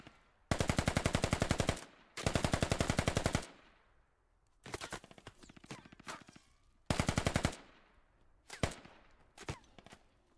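Pistol and rifle gunfire in the military shooter game Squad: long sustained bursts of rapid shots, then scattered single cracks and short volleys, loud and close with no talk.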